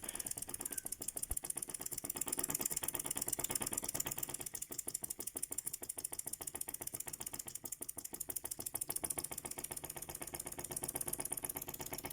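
A small wobbler steam engine running steadily, a fast, even mechanical ticking and chuffing that stays constant at close range throughout.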